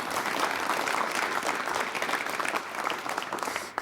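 Studio audience at a 1988 Korean television talk show applauds to welcome an elderly economist guest, a steady dense wash of clapping held at even volume throughout, close and alone.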